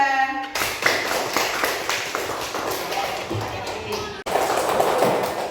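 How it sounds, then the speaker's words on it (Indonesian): A school class clapping their hands for a group of students, a close, lively burst of rapid uneven claps that runs for several seconds with a short break near the end. "Tepuk tangan untuk kelompok 2."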